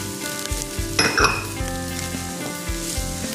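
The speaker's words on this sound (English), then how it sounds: "I'm going to add some finely minced shallot to the fennel and oil" Finely minced shallot sizzles loudly in a pan of fennel and oil, a steady frying hiss with a burst of stirring clatter near the start and low background hum throughout.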